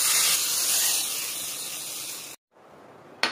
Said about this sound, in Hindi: वाओ किस किस को अच्छा लगता है ये छौंके का साउंड